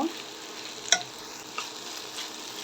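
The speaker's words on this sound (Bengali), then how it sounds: "এখন এই পর্যায়ে সজনে পাতা শাক দিয়ে দিব এখন হচ্ছে ভালো করে নেড়ে মিক্স করে নেব" Moringa leaves stirred into a pan with browned onions, giving a quiet, steady sizzle with a sharper spatula scrape near the start and a couple of softer scrapes after.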